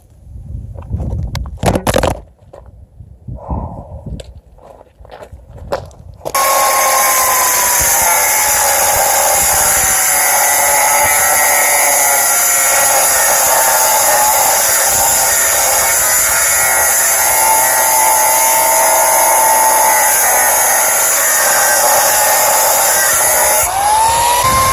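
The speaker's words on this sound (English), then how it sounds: "then I'll transfer that to some steel and cut it out with a death wheel" Cut-off wheel slicing through steel plate during turbo mount fabrication on a Mustang, a loud sustained high-pitched grinding whine that kicks in after a few seconds of shuffling handling noises and holds steady to the end.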